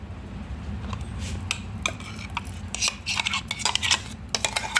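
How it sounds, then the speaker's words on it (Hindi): Thick rice paste scraped and transferred into a vessel in a home kitchen, with repeated clinks and scrapes of utensils against metal pots growing busier and louder toward the end, no talking. "तो इसे अब एक बर्तन में हम ट्रांसफ़र कर लेते हैं।"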